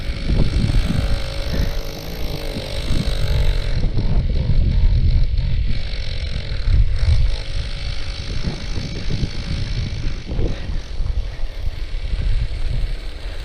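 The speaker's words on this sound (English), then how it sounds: "Motor's on." A Go-Ped motor scooter that sat unused for over fifteen years runs its small two-stroke engine in a steady, loud, rough drone that holds for the whole stretch, with wind buffeting the microphone.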